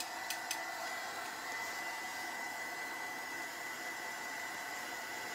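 A hair dryer or similar heat tool blowing on wet paint on an old camera, a steady, faint, continuous whooshing hum with two small clicks near the start and no talk.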